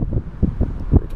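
Gusty 15 mph wind buffeting a microphone beside a lake during a bass fishing outing, heard as low, uneven rumbling thumps that swell and fade in quick succession, close and fairly loud.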